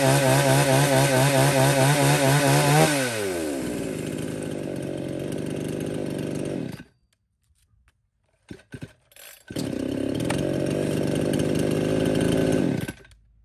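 A used Japanese chainsaw engine starts and runs loud and close, revving high before settling to a steady idle, then cutting out into near silence with a few clicks, and firing up again to run steadily.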